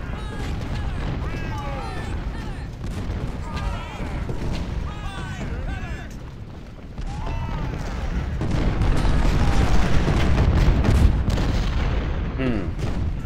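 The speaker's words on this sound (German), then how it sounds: "Haben wir nicht hier auch noch Kanonen? Wie wäre es, wenn ihr mal feuert?" Cannon artillery volleys in the Civil War strategy game Ultimate General: Civil War, Gettysburg battle, giving dense booming and crackling gunfire under a busy battle soundscape, growing louder toward the end.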